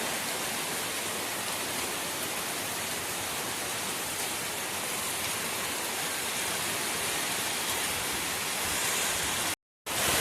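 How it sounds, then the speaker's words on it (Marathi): Heavy rain pours down steadily with wind on a village in the Konkan during the rainy season, a dense, loud, unbroken hiss that holds for the whole stretch before a brief cutout near the end. "पाऊस इलेलो तू बघा, एकदम असं वाऱ्यासकट दिलो"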